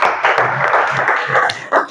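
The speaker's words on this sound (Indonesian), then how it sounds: "tepuk tangan buat kita semua" Classroom applause, a short burst of many hands clapping together, steady and fairly close, swelling again near the end with a faint voice underneath.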